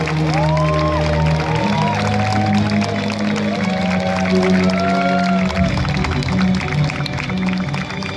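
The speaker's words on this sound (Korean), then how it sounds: "먼 길을 날아오신 해외 선수단에게 다시 한번 뜨거운 환영의 박수 부탁드리겠습니다." A large crowd gives warm, loud, sustained applause with cheering to welcome national teams from Korea, the US, the UK, Japan, China and Qatar at a Seoul sports ceremony, with music playing underneath.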